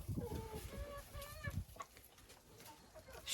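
Hens in a greenhouse cluck softly, a few quick, close low calls and a rising bird note, then quieter scratching and rustling while the birds settle.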